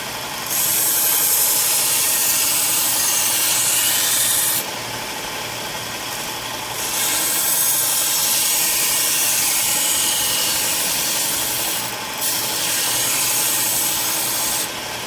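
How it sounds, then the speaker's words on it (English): A belt grinder fitted with a 120-grit belt sets the bevel on a kitchen knife under restoration, giving a loud, close abrasive whir that swells during passes of the blade and dips between them. "I got a 120 grit belt on there. I'm going to go ahead and set the bevel with this."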